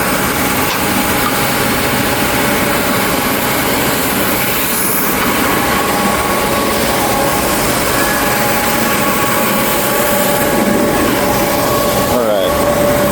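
Sanding a walnut and cherry end grain butcher block produces a loud, unbroken grinding roar that holds steady and close throughout.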